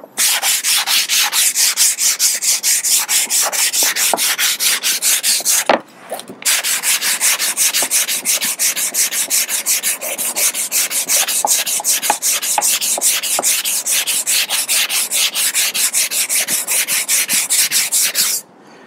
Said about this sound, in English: I'm letting the sandpaper do all the work.